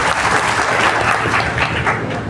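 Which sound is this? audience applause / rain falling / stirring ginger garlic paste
audience applause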